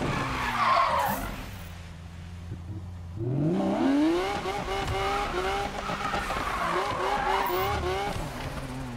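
A race car in Need for Speed (2015) revs and accelerates through rising gear shifts, with loud tire squeals and skidding at the start, a brief lull, then sustained close engine roar.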